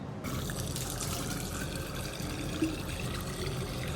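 Drinking water runs steadily from the tap of an RO purification plant at a hospital, a continuous close hiss and splash with no pauses.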